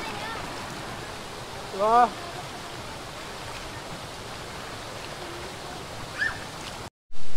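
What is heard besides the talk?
Bahaw Falls waterfall in Pasacao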